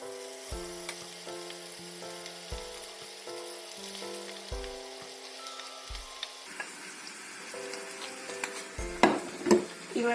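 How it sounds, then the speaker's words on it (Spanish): Cochayuyo seaweed sofrito for Mapuche charquicán is stirred in a pot, a soft steady sizzle with scraping and light clinks of the spoon against the pot, growing busier toward the end; no voices. "Y revolvemos todo."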